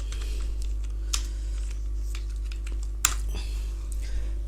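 Keys clatter on a computer keyboard in quick, light bursts of typing, close and fairly soft over a low steady electrical hum.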